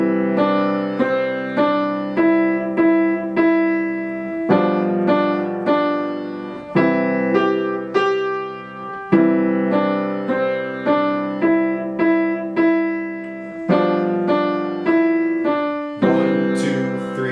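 Slow piano melody of the Largo theme known as Going Home, single notes and chords played evenly and at a calm pace, clear and alone with no talking.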